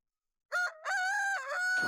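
Rooster crows once, a loud stretched cock-a-doodle-doo right after a moment of silence, with a brief noisy burst at the end and no talking.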